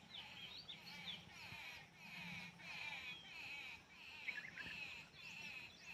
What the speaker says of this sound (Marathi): पक्ष्याचा आवाज येतो बघ